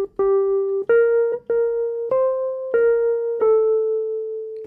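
A plain gospel melody played on keyboard as single sustained notes, seven steady tones in a row with brief gaps between them, clear and close with no voices.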